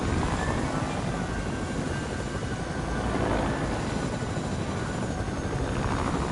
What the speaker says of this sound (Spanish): Aquí tengo el helicóptero.